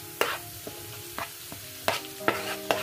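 Onions frying in a pan for a hachis parmentier, a soft sizzle broken by a handful of sharp utensil scrapes and knocks as they are stirred, close and clear with no talking.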